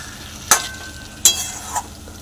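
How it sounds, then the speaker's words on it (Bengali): Fish sautéed with spices in a pan: a low steady sizzle broken by three sharp, evenly spaced scraping stir strokes, close and fairly quiet, with no voices. "সুন্দর করে মাছগুলোকে কষিয়ে নেব।"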